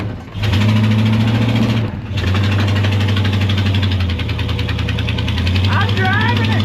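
A budget two-wheel-drive mud truck's engine runs loudly and close, a steady idle with a knocking edge, briefly dipping near the start before resuming; someone talks over it.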